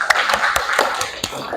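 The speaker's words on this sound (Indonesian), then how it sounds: "Oke, tepuk tangan buat Ibnu." A high school class claps for a student after a math lesson on combinations. The sparse, uneven, close-up claps have a few sharp strong strikes standing out over a murmur of voices.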